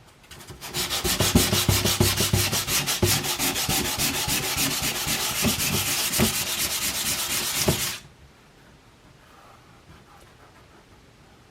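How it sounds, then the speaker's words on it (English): Hand sanding of a paper mache cosplay pauldron for a Space Marine costume: rapid, even back-and-forth scratching strokes, loud and close, running for about seven seconds and then stopping abruptly into near silence. "maybe I can like file that or sand that a bit flatter or something"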